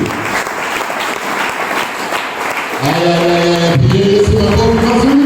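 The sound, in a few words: congregation clapping for Jesus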